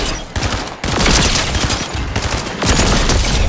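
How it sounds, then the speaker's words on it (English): Rapid sustained fire from a lock-on pistol in Fortnite, a loud close fusillade of quick shots running almost without pause through two long bursts. "This is a lock-on pistol."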